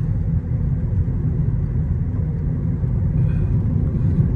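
A car drives along a muddy track, giving a steady low rumble of engine and tyres, close and constant with no talk.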